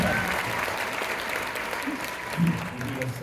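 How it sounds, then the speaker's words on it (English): An audience at a live Irish Rambling House show at the Admiral Theatre applauding, a dense, steady wash of clapping throughout with a brief voice near the end. "How about a round of applause for all that?"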